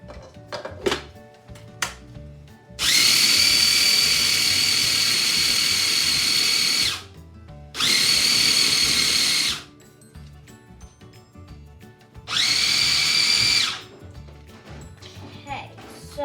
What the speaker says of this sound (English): now what I'm going to do is I'm going to grind this oatmeal in here.